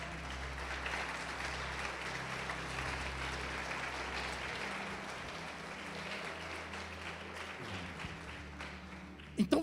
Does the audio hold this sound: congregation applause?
yes